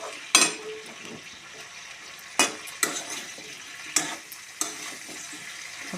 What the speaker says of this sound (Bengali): নুন হলুদ দিয়ে দিয়েছি, এবার একটুখানি ভাজা করে নেব।